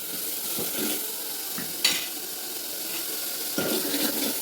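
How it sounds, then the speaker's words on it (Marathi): Onion, garlic and ginger sauté in hot oil, a steady close sizzle broken by several sharp stirring scrapes of a spoon against the pan. "कांदा लसण अद्रक टाकलेल्या तेलामध्ये परतून घ्यायचं"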